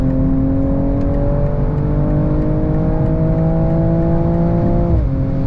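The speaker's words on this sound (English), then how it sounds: "And it pops when I lift off the gas at like 190." A 2022 BMW M240i at high autobahn speed howls under sustained load with a loud, steady engine tone that drops abruptly near the end as the throttle lifts, followed by faint crackles.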